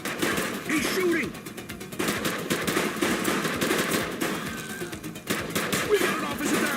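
Gunfire in the police video game The Precinct, rapid overlapping shots in bursts throughout, with voices shouting over the battle.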